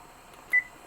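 A single short electronic beep from a kitchen timer button press, brief and fairly clear against a quiet background hum.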